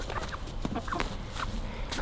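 Chickens cluck in short, scattered calls over a steady background hum, several birds close by within about two seconds.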